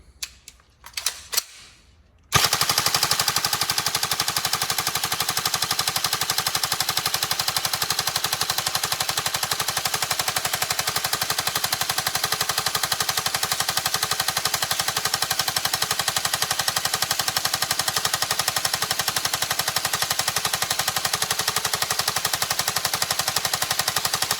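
Upgraded Tokyo Marui MK46 NGRS airsoft electric gun fires one long, loud, unbroken full-auto burst for about twenty seconds, after a few short mechanical clicks and handling sounds at the start.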